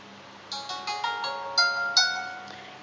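A Samsung phone running the TouchWiz launcher plays a short chiming tone when shaken to change the wallpaper, a run of bright bell-like notes struck in a quick uneven sequence, clear and close in a quiet room.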